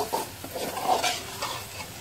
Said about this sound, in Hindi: अंडा ऐड करने के बाद इसमें इस तरह से चम्मच चलाते रहेंगे ताकि अंडा कहीं से जले ना और बराबर पक जाए